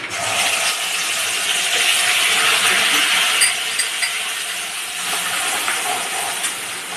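Spices and curry leaves crackle and sizzle in hot oil for moong sprout kadhi, a loud, continuous bright hiss with fine popping spread through it, close up and with no talk over it.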